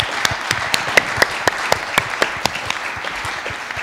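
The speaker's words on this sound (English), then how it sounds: "can I have a round of applause for our speakers?" Audience applause for the speakers at a farming festival talk, moderately loud clapping with sharp individual claps standing out in an uneven rhythm.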